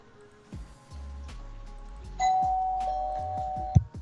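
A doorbell chimes a clear two-tone ding-dong during a Portland Trail Blazers live sports talk stream, sounding over soft background noise and thumps, with a sharp knock near the end.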